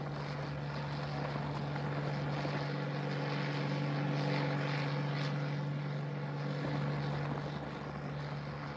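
A propeller airplane engine in flight drones steadily from inside the cabin, with a strong low hum and constant broadband roar holding level for the whole stretch.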